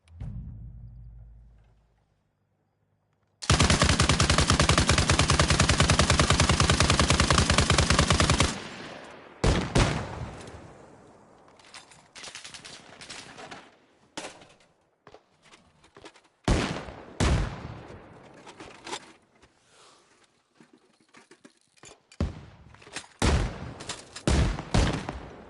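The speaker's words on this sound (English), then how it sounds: "Pop a grenade on that motherfucker and start taking shots." Sustained automatic gunfire bursts loudly for several seconds in a PVE operation in a video game, followed by scattered single shots and short volleys at varying distance, with a possible grenade blast among them.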